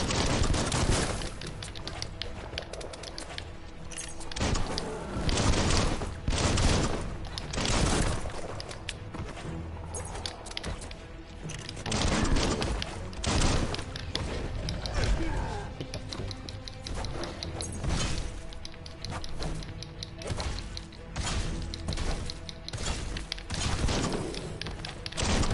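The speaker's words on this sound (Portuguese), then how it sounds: "Não é voo, isso aqui é tiro." Rapid bursts of gunfire crackle continuously, loud and dense, with heavy thuds mixed in, sounding like a busy shooting game.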